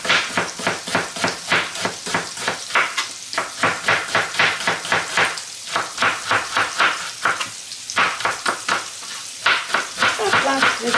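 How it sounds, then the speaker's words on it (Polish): Slices of pork loin searing in a frying pan, a steady loud sizzle with rhythmic scraping and stirring strokes running throughout. "A plastry schabu obsmażamy z jednej i z drugiej strony."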